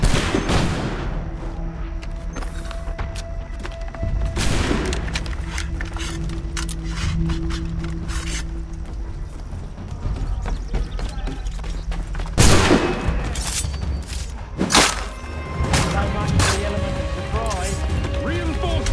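Musket volleys crack and boom in the video game Assassin's Creed III Remastered, with repeated bursts of gunfire over a busy battle soundscape and characters shouting commands.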